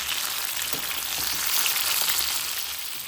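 Brinjal (eggplant) curry fries in oil in a pan, a loud, close, continuous sizzle with faint stirring scrapes and no talking.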